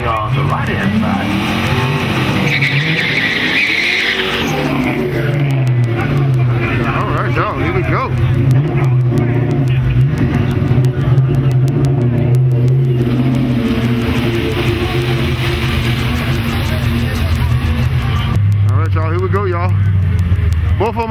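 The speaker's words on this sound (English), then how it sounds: "Big Dodge station wagon in the left-hand lane going against a fourth generation Mustang on the right-hand side." A big Dodge station wagon drag racing a fourth-generation Mustang, engines roaring loudly and shifting pitch as they launch and pull down the strip, heard close under a commentator talking over it.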